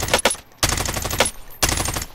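Video game gunfire aimed at an enemy on a rooftop: three loud, close bursts of rapid shots separated by short silent gaps.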